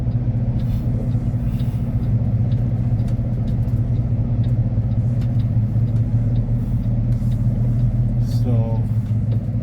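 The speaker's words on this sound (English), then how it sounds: "I'm gonna go ahead and back into this dock they have here" A truck reverses slowly into a loading dock, its engine giving a steady low rumble and drone close by throughout, with a brief higher whine near the end.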